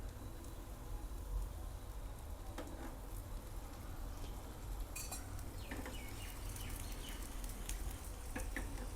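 Farali pudla crisping in oil in a pan, with a steady low sizzle and hiss running the whole time and a few faint scrapes of utensils.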